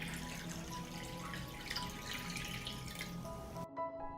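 Water runs steadily from a tap into a pot of jars resting on a cloth, a continuous splashing fill that cuts off near the end.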